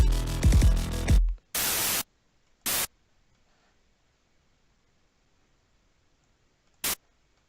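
Harsh bursts of white-noise hiss from an FL Studio 3x Oscillator synthesizer, a one-second blast and a shorter one after some opening tones, then silence until a final brief burst.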